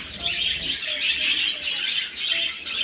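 Parrots chirp at a bird shop, a steady chorus of high twittering calls that swells and fades in repeated bursts, moderately close.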